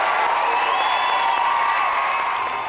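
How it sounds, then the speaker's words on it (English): A crowd at a political rally cheering for former President Bill Clinton alongside Democrat gubernatorial nominee Jim Davis, a loud, steady wash of cheers and applause that holds without pause. "A crowd erupts in cheers as former President Bill Clinton takes center stage"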